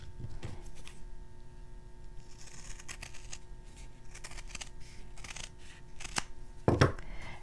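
Scissors snip through felt while making a flower fairy Christmas ornament, a string of close, quiet crunching cuts in an uneven rhythm, with a slightly louder rustle near the end.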